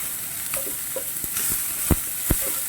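Onion and green chilli spluttering in a frying pan: a continuous close sizzle with scattered pops and a couple of sharper crackling bursts.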